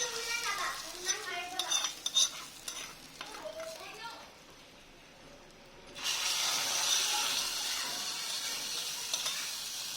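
Fried ginger is tipped into khichdi in a pan, with scraping spoon stirs and clinks at first, then a quiet pause before a steady close sizzle of frying takes over.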